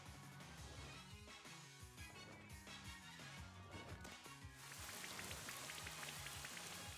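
Rain from the Rain Dance move in Pokemon Shield, a dense patter of raindrops over game music, rising louder and hissier partway through.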